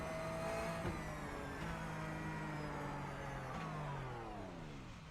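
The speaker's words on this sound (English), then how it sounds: "Let's ride on board with him and see if we can hear if the car dies." A race car at the Nürburgring 24-hour race, heard from on board as it climbs the long uphill stretch: a steady, droning engine note that sags and fades out toward the end as the car dies.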